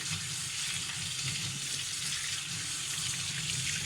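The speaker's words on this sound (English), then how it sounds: "First, I'm going to start with rinsing this sponge." A sponge rinsed under a running tap at a stainless steel sink, giving a steady, close, continuous rush of water.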